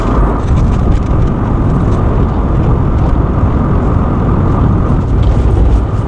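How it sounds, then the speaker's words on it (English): A car engine labours at low revs while driving, a loud, dense, rumbling drone that holds steady throughout with no voices. "Oh, it doesn't like low revs, this car."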